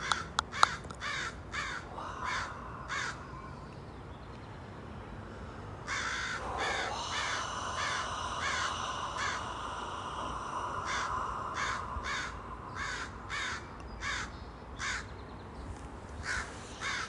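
Crows caw in short repeated calls, a lone pair of caws early on and then a long steady series of loud, harsh calls from fairly close by over a quiet outdoor background.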